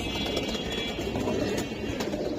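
Giribaz pigeons at a pigeon market, soft cooing and bird calls over a constant busy crowd hum, no clear speech.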